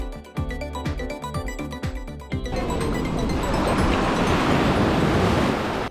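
Sea waves on a hotel beach at Golden Sands, Bulgaria, washing loudly and continuously ashore with wind noise, after a few seconds of rhythmic clattering at the start, no voices.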